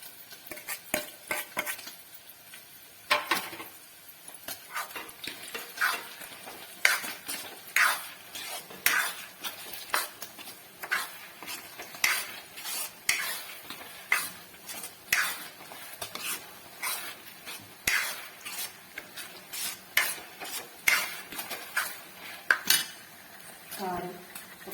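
Tomato paste frying in a pan for a paneer curry, stirred with a metal spoon in a steady rhythm of repeated scrapes and clinks over a low sizzle, close and continuous.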